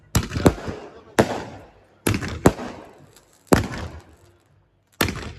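Firework cake shots go off in loud, sharp bursts, single and paired, with short gaps between them and each crack fading out. The display is outdoors at a family haldi and mehndi celebration.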